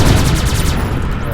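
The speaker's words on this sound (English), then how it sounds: "it's probably a bad time to shoot that missile" Missile launch in the space combat game Beyond Sol, a loud dense rushing blast with crackling rumble that stays strong for over a second.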